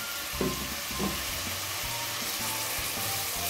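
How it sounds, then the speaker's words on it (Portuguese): Steady crackling sizzle of onion frying in a hot pan, with a couple of soft clinks from stirring early on. "Agora vamos murchar a cebola"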